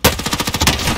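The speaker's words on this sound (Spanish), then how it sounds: "Hay un tiroteo por ahí" Rapid automatic gunfire from the video game Warzone rattles out in a loud, close burst of about a dozen shots, each evenly spaced and sharp.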